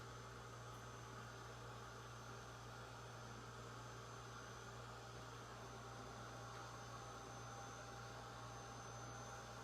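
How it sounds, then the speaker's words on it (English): A blow dryer runs steadily to dry freshly made art materials, giving a continuous close whooshing roar with a low motor hum that holds unchanged throughout, with no talking. "Now all I'm doing is like hitting it with a blow dryer."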